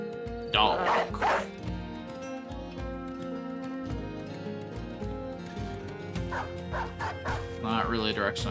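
A dog barks and yips in the Battle Brothers video game, with several short barks near the start and again toward the end. They sit over a sustained tonal music bed that plays throughout.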